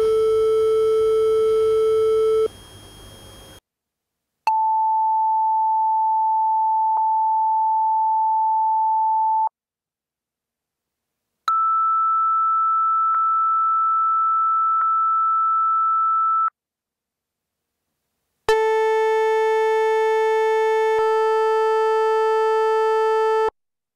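Pure synthesized sine tones in a physics demonstration: a combined waveform tone, then two steady single-pitch tones of about five seconds each separated by silence, and a final combined tone, all loud and clean.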